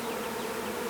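Honeybees from a swarm fan and buzz near a hive box outdoors, a continuous dense droning hum heard close and steady with no talk.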